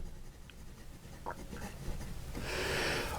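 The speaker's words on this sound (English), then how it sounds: "I put the microphone next for this writing here so you could hear the nib on the paper" A fine-nib Lingmo Lorelei fountain pen scratches across paper, giving quiet, close strokes in short bursts with a brief, brighter scratchy run near the end, alone and faint.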